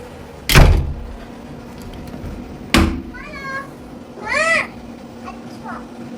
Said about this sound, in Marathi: आता दरवाजा बंद करेल.